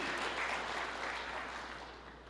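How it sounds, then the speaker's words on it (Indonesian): Faint, distant applause from a congregation during a church sermon, a soft continuous wash of clapping that slowly fades over a couple of seconds. "Berikan tepuk tangan yang meriah buat Tuhan"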